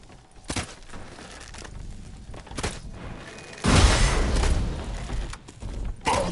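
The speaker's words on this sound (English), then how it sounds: "can we use exploding bolt?" An exploding crossbow bolt goes off in The Witcher 3, a sudden loud burst that dies down into rumbling game noise and scattered clatter, with no talking.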